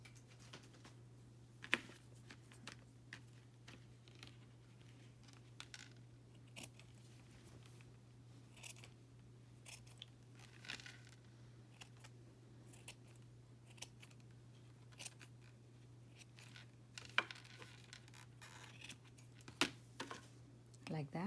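Scissors snip through macrame cord while making DIY feathers, giving sparse, quiet clicks and cuts scattered over a steady low hum, close to the microphone and alone without talk.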